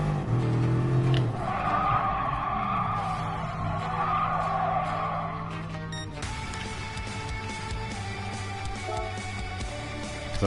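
A car in Gran Turismo Sport drifts under the e-brake, giving a sustained tire skid and squeal over the engine for several seconds before the sound gives way to a steadier engine tone, with no talking.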